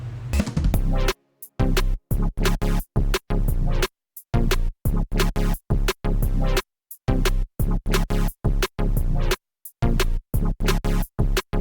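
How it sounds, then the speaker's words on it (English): Chopped electronic synth chords pulse in a stuttering rhythm, with deep wobbling bass wubs and brief silent gaps between hits. "I'm going to be using a different synth and attempting to add a dubstep wub sound"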